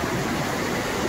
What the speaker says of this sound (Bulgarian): Ето го и водопад.